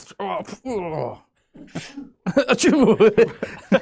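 A voice makes a few short, sharp sneeze-like bursts and vocal sounds, close and fairly loud, followed by more vocalizing.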